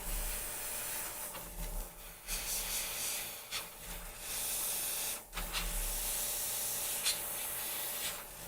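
An airbrush sprays paint onto a werewolf model in a steady close hiss, broken by a few brief pauses and changes as the nozzle moves.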